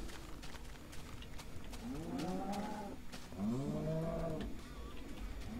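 Cows in a Minecraft farm moo in two drawn-out, wavering calls, the second louder and nearer, over a steady game background with no talking.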